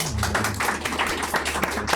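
An audience at a talk about brewing gives a round of applause, dense steady clapping close by that runs without a break.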